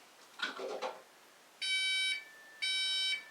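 Entry tones from a Texecom Premier Elite alarm panel keypad: two sustained, bright electronic beeps, each about half a second long, sound close and clear after a short burst of indistinct noise.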